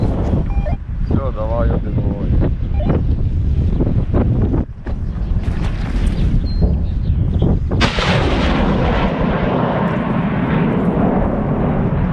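A BM-21 Grad multiple rocket launcher firing on the battlefield, a loud roaring rush of launches with heavy wind buffeting on the microphone and voices in the background.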